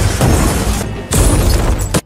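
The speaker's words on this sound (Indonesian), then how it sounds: "Sehingga ledakan mobil itu membuat Parthiban yang sebelumnya terlelap dalam mimpi tiba-tiba terbangun dari tidurnya" A car explosion in the action film Leo (2023) bursts out loud, a sustained roaring blast with a short drop near the middle before a second heavy surge, then cuts off abruptly.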